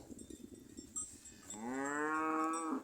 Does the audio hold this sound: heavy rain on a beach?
no